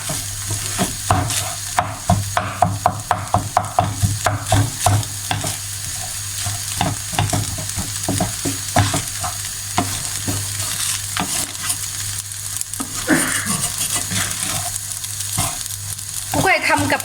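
Fried rice being stir-fried in a pan over a high gas flame: a steady sizzle with repeated scraping and clattering strokes of a spatula, close and fairly loud, with no talking.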